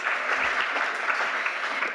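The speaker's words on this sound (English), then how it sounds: "give her a round of applause" An audience applauds for Jennifer Redmond, a co-op coordinator, at a university co-op information event; dense, steady clapping fills the whole stretch at a fairly loud, even level.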